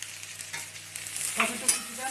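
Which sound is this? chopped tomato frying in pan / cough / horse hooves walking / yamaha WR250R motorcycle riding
chopped tomato frying in pan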